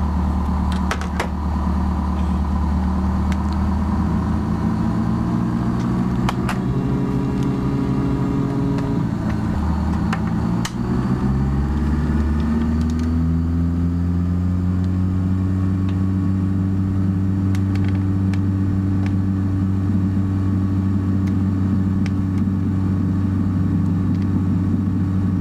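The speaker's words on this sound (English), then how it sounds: "Cessna November 684 Charlie Delta is taking off runway 34, remaining a pattern, touch and go traffic" A Cessna aircraft's piston engine drones loudly and steadily through a takeoff roll from the runway, its pitch shifting and rising as it powers up, with no talk over it.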